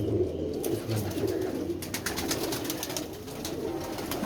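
Pigeons coo in soft, repeated low calls close by, with some twittering chatter and steady background noise throughout.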